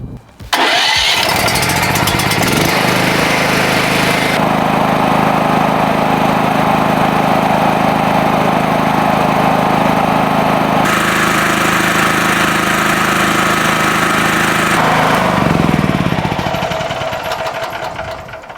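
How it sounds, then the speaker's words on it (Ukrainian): An AL-KO 6500 C petrol generator engine runs steadily and loudly for most of the stretch, a constant droning rumble with a slight shift in tone midway before winding down. "давайте перейдемо до замірів шуму на генераторі 6500 c"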